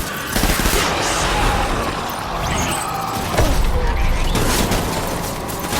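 Dense, sustained gunfire fills a battle in the video game Death Stranding, with heavy booms and rapid bursts running on loud and unbroken throughout.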